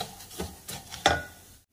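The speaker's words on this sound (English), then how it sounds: "I'm just going to toast this rice." Rice toasting in a pan is stirred in a few short, soft scraping strokes with a faint dry sizzle, ending abruptly in silence.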